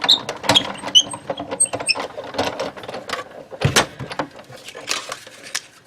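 A die cut machine cuts a circle out of fabric for a pumpkin napkin band, giving a steady run of mechanical clicks, creaks and grinding rumbles, close and fairly loud, with a heavier thump midway and no talking.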